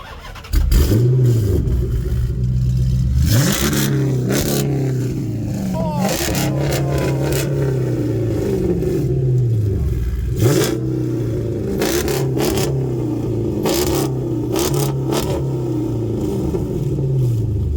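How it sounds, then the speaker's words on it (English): A Dodge Magnum engine revs hard through a loud, raw straight-pipe solo exhaust, with repeated throttle blips rising and falling, close by, and voices talking over it. "What kind of exhaust you running, man? We got the solo exhaust."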